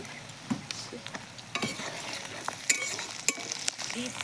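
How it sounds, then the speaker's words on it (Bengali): Quiet sizzling of capsicum frying in a pan with scattered crackles and the scrape of stirring, close and steady. "এবার আমি ক্যাপসিকামটা ভেজে নেব"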